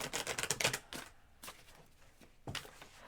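Tarot cards being shuffled by hand, giving a rapid run of crisp riffling flicks at the start, then scattered single snaps and a final burst, fairly quiet and close with no talking.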